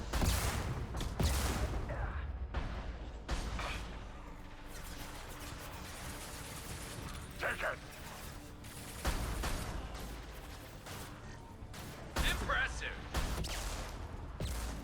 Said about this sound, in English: who's shooting explosives at me?